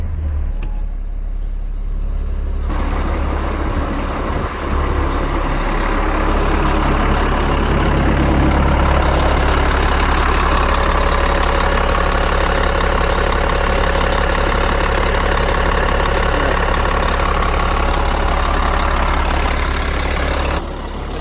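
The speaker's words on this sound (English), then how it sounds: "As I wait for the engine to warm up so we can test for any leaks." A CAT C-12 diesel truck engine idles steadily while warming up, a loud, constant low rumble that continues unbroken throughout, with a brief metallic rattle near the start.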